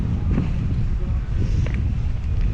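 Wind blows outdoors beside old ruins, buffeting the microphone with a steady low rumble and gusty, rushing swells throughout.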